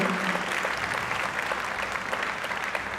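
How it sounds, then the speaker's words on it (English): An audience at a corporate conclave breaks into dense, steady applause, a loud continuous wash of many hands clapping for the full stretch. "you deserve a big round of applause for yourself"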